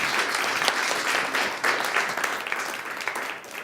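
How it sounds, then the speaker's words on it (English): An audience at a body language show breaks into a big round of applause, a dense, loud wash of clapping that holds steady for a few seconds and fades slightly at the end. "big round of applause for all of those comments"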